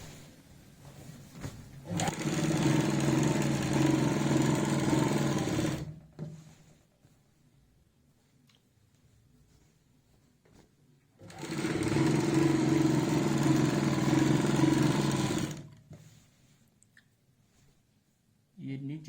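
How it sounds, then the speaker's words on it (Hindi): A sewing machine stitches a fold on a salwar, running in two steady, close whirring bursts of about four seconds each, separated by quiet pauses. "इसी निशान के ऊपर हमने फोल्ड लगाना है ऐसे, और यहाँ पे सिलाई लगा देनी है"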